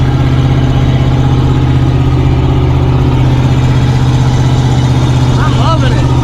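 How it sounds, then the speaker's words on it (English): A 4-door Jeep truck fitted with a homemade driveshaft drives along a bumpy road, its engine giving a loud, steady low drone with constant rumbling road noise, and a person speaks briefly near the end. "Thing drives straight for the most part too, besides the bumpy road."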